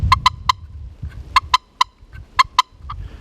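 A hand-worked turkey call is used while turkey hunting, giving short, sharp clucking notes in small clusters separated by brief pauses, close and clear.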